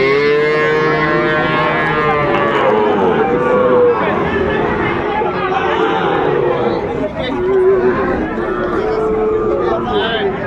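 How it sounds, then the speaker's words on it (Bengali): A Sahiwal bull calf stands at a busy cattle market in Rajshahi amid loud, constant crowd chatter, with cattle lowing among the voices and people talking close by. "শাহিওয়ালার ষাঁড় বাচ্চা আমরা দেখছিলাম"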